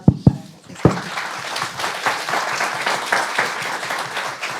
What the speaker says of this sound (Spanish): Les pido un aplauso para Cachis.